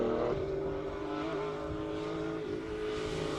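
A BMW E46 race car at a classic car speed event in Cape Town drives toward the finish line, its engine droning steadily at a moderate distance amid outdoor background noise.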